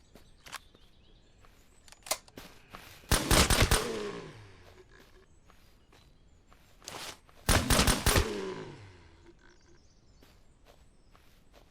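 Unsilenced gun in SurrounDead firing two loud rapid bursts a few seconds apart, each a cluster of sharp cracks trailing into a short echoing decay, with faint footsteps and quiet ambience between.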